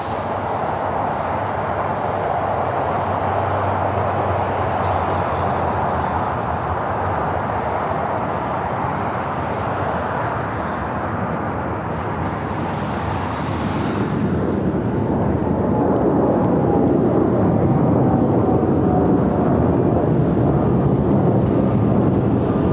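A United Dreamliner airliner takes off down runway 25 right at LAX, a steady loud roaring engine rumble that builds and broadens toward the end, with wind buffeting the microphone.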